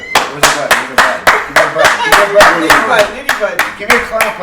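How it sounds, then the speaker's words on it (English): A clap button sound effect on a radio show, a rapid run of about a dozen crisp, loud hand claps in an even rhythm lasting several seconds. "Give me a clap button"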